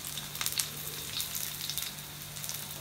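Garlic cloves frying in hot oil in a pan for a Chettinad crab masala, a steady soft sizzle with faint crackles, no talking.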